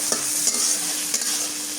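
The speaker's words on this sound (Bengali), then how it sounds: "এখন পেঁয়াজ আর কাঁচামরিচ কুচি দিয়ে দিই।" Chopped onion and green chili hit hot oil in a village kitchen, giving a loud, continuous sizzle with quick stirring scrapes close by.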